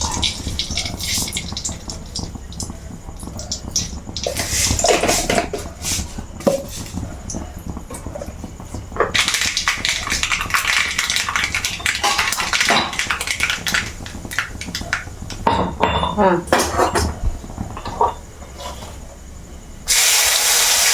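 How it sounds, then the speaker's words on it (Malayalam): Mustard seeds spluttering in hot coconut oil for bitter gourd pachadi, a fizzing crackle in sharp bursts and hissing stretches, close and fairly loud with no voices. "ശകലം കടുകിട്ട് കൊടുക്കാം"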